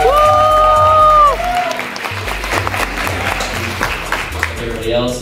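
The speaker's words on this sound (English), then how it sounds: "give yourself a round of applause for being here at 10:30 in the morning" A crowd claps steadily at moderate volume, with a voice speaking over the start, the applause continuing for several seconds, at a morning panel at New York Comic Con 2023.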